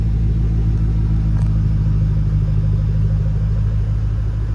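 A deep, steady engine rumble from a 2007 Ford Mustang Shelby GT500 V8 with pulley and intake tune idles close by, low and throbbing without pause.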